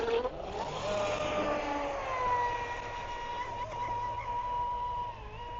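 The motor of a three-foot Sonic Wake RC speedboat whines steadily at high pitch, its tone sliding slightly as it runs continuously, with a faint low rumble underneath.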